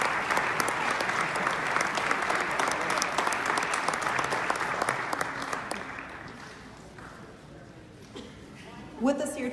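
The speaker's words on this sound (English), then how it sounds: "Please give them a round of applause." Applause from the audience at the La Reina de la Fiesta de Santa Fe competition, loud dense clapping that fades gradually after about six seconds before a voice begins speaking at the end.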